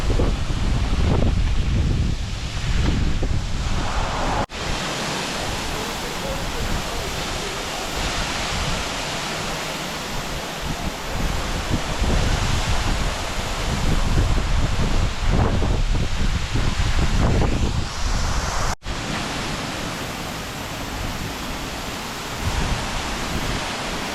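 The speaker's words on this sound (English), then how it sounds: "This is Bridal Veil Falls." Bridal Veil Falls with lots of water pouring over it, a loud continuous broadband rush with wind buffeting the microphone at times.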